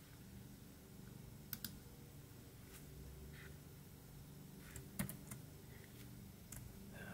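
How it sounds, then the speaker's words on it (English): Sparse key presses on a Logitech K600 wireless TV keyboard, a few scattered clicks and short clusters over a steady low background hum, fairly quiet with no talking. "You can also hear the typing sound."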